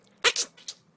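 A person's voice imitates a girl's sneeze with a few quick, faint, breathy bursts in under a second.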